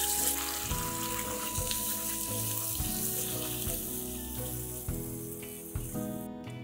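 Ginger garlic paste sautéing in a pan, a steady close sizzle and crackle with faint intermittent clinks of a utensil against the pan, continuous and without talk.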